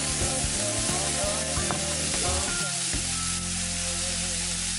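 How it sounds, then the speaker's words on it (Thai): Seafood stir-fried in a pan for spaghetti sizzles loudly and continuously, with clattering stirring and scraping strokes over the first few seconds before settling into a steady hiss. "ใส่อาหารทะเลที่เราเตรียมไว้ลงไปนะคะ ผัดให้มันพอสุกนะ"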